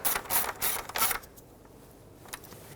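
A ratchet clicks in three quick close bursts while snugging bracket bolts on a 1998-2011 Ford Ranger with a 4.0L V6, then falls nearly silent.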